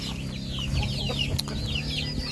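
Chickens clucking on a farm alongside ducks, soft repeated clucks and short calls close by, with faint rustling in the background and no talk.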